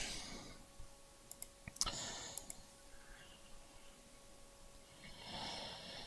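Outdoors in Christchurch, New Zealand, a camera's zoom motor whirs faintly while its lenses shift, giving scattered small clicks and ticks close to the microphone, then a louder hiss near the end, with no talking.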